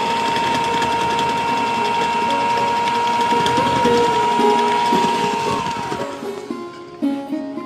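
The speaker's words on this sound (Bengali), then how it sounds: "এবার আমি এটাকে একটু ব্লেন্ড করে নিচ্ছি।" An electric hand mixer blends flour into vanilla sponge cake batter, a steady whirring motor drone with a mechanical rattle, loud and continuous, easing off near the end.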